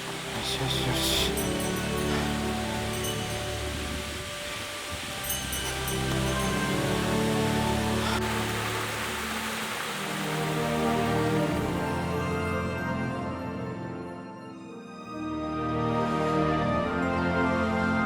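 A waterfall in Hokkaido gives off a continuous rushing roar, steady and fairly close. Faint movement and voice sounds mix in over the top of it.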